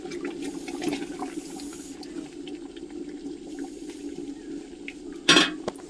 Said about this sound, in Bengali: এখন ঘুগনিটা কিন্তু ফুটছে।